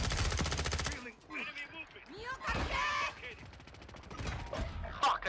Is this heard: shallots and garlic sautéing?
no